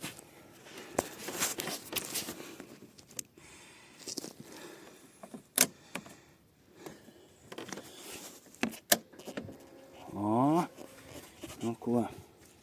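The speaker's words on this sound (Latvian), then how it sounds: "Pagriežam atslēgu." Keys jangle as an ignition key is turned on a Honda PCX 125 scooter, with short metallic rattles and clicks among handling noises, a brief electronic chirp, and someone speaking.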